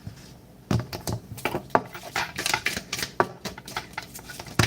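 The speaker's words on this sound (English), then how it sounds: "I'm just shuffling the cards for each group" Cards being shuffled up close, a steady run of quick soft slaps and riffles against a low background hiss, no voices.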